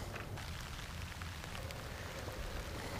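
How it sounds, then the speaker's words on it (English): Soft, steady rain patters outdoors during a bass fishing outing, a quiet continuous hiss with low rumbling underneath and no voices. "Looks like it might be a thunderstorm or something, or heavier rain"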